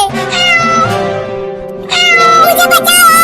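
A cartoon cat meows loudly and close, two drawn-out, pitch-sliding cries in quick succession with a short dip between them.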